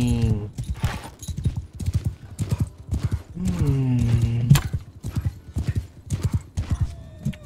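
Horses in the medieval battle game Mount & Blade 2: Bannerlord gallop with steady, close hoofbeats, and a loud whinny rises clearly above the rhythm near the middle.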